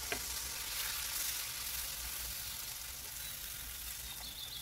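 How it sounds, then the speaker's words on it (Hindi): Spice paste for malai kofta curry frying in a pan over very low flame, a steady close sizzle with faint stirring throughout, no voices. "इसमें जल्दी से हम ये पेस्ट ऐड कर देंगे और इसे थोड़ा भून लेंगे।"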